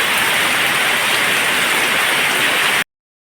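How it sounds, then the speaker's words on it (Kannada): A heavy downpour in a windy rainstorm, a loud, dense and even roar of rain hammering nearby surfaces, holding steady for nearly three seconds before cutting off abruptly. "ಈಗ ನೋಡಿ ಎಂಥ ಮಳೆ."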